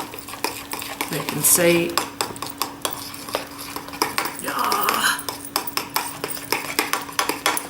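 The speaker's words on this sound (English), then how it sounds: "Mix the egg whites in with the oats, and you should get that kind of consistency" A spoon stirs microwaved egg whites and oats in a bowl, producing rapid repeated clinks and scrapes close up; a voice speaks briefly partway through.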